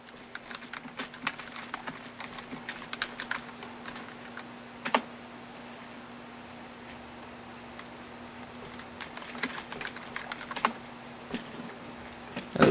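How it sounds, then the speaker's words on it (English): Tasks being typed on a computer keyboard, with quick bursts of light key taps and occasional louder keystrokes like an enter press, close up and with no speech. "So I'm just going to type in a few more real quickly."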